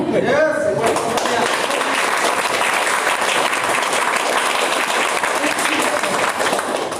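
Clapping from a seminar audience at an RCM business talk breaks out after a brief spoken moment, then continues as a steady, dense roomful of applause to the end.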